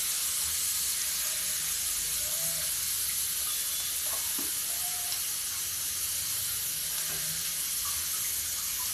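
Chopped onions frying in a hot pan in a home kitchen give off a steady, close sizzle and hiss that runs unbroken for the whole stretch, with no voices over it.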